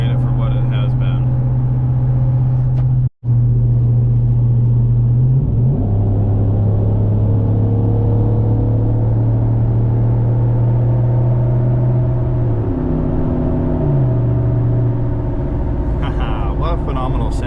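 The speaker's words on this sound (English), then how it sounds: "that Roush exhaust has such a good sound to it" A Roush 5.0 V8 in a Ford F-150 truck rumbles loudly, rising and falling through several revs with a burbling exhaust tone; a brief cut interrupts it early on.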